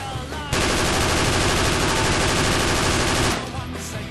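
Sustained burst of automatic gunfire in the military shooter Project Reality, loud rapid shots packed together for about three seconds before stopping abruptly.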